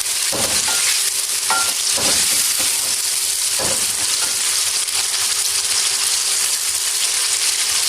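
Chicken fries in a pan for biryani, a loud, continuous hiss and sizzle with a few scraping strokes from stirring near the start.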